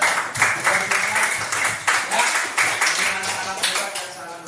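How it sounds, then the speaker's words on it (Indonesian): Group clapping in a teacher training session, bursts of hand claps rising and falling in uneven waves, fairly close and moderately loud. "Sekali lagi, tepuk tangan untuk kita"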